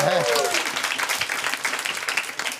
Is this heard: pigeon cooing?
no